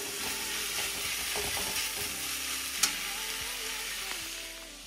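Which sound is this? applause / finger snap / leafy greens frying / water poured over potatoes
leafy greens frying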